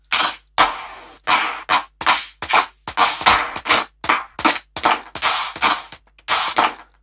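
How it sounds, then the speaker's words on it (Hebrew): Trap-beat clap samples auditioned one after another in Cubase, a rapid series of about fourteen short, sharp, bright claps with quick gaps, loud and alone with no talk. "אני עכשיו, בשלב הבא, צריך קלאפ או משהו שיענה לי לקיק"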